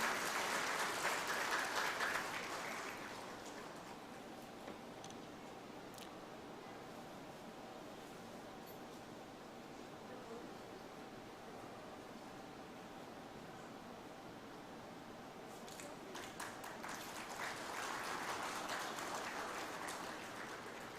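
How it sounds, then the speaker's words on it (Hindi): Applause from a crowd at a TV news channel's launch ceremony, loud at the start, dropping to a steady low wash of claps in the middle, then swelling again near the end. "जरा जोरदार तालियां होनी चाहिए"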